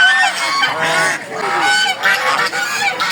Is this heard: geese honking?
yes